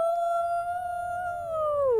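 A single long, steady wolf howl in the video game Nancy Drew: White Wolf of Icicle Creek holds its pitch, then slides downward at the end. It sounds clear and close.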